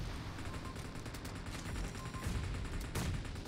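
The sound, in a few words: gunfire in video game PUBG Mobile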